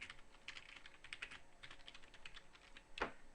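Rapid clicking keystrokes on a computer keyboard, a steady irregular patter of light taps close up, ending with a sharper, louder key press, with no talking.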